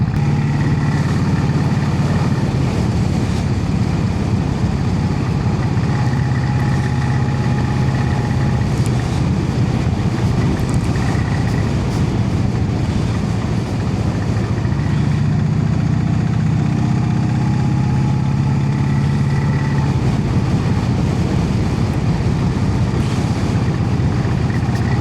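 A Brough Superior motorcycle engine pulls steadily in third gear while riding, a loud continuous low drone with wind rush, sustained throughout without talk.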